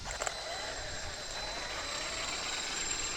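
Gears of a Traxxas XMaxx RC truck run with a steady high whine and broad whirring hum, moderately loud and continuous, with a couple of brief clicks near the start and no speech.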